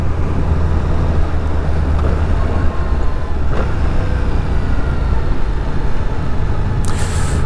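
A 2025 Yamaha MT-07 A2 motorcycle engine runs steadily while riding in fifth gear at low revs around 2000 rpm, knocking slightly, a continuous low droning rumble mixed with wind noise throughout.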